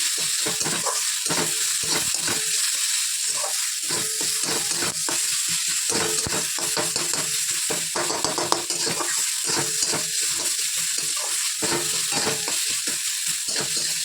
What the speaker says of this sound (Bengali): দেখো এই যে সোয়াবিন কষাচ্ছি পাঁচফোড়ন দিয়েছি ফোড়নে তারপরে পেঁয়াজ টমেটো কাঁচা লঙ্কা আর রসুন